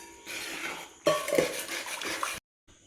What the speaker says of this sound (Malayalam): ഇനി ഇതിലേക്ക് നമ്മൾ അരിച്ച് വെച്ചിരിക്കുന്ന ശർക്കര ഉരുക്കിയത് കൂടി ചേർത്തിട്ട് നന്നായിട്ട് ഇളക്കി